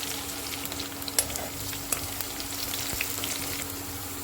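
Chopped garlic, asafoetida, green chillies and cumin sizzle in hot oil, a steady close crackle with occasional sharper pops and faint stirring scrapes, no voices.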